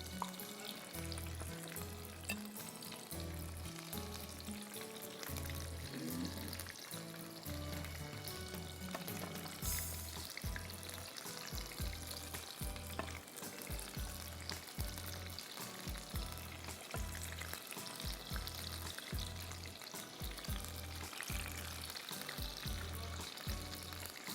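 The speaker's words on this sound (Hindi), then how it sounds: "इसको भी आपको फ्राई करना है एटलीस्ट 5 to 7 मिनट्स" Cauliflower florets frying in hot oil for a burger, a steady dense sizzle and bubbling that runs continuously with occasional stirring clinks, fairly loud and close, no talking.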